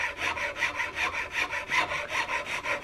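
A half-round file shaping the wooden forestock of a CVA Hawken rifle: close, rhythmic rasping strokes, about ten even back-and-forth passes in under three seconds, with no voices.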